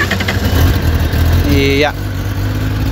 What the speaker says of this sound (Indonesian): Sekarang kita dengarkan knalpot standar ya dulu ya sob ya.